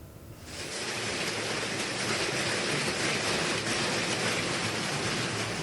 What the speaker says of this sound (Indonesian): hujan es sebesar kerikil berjatuhan dari langit